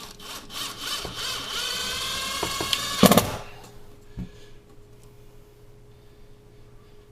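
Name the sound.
hammer drill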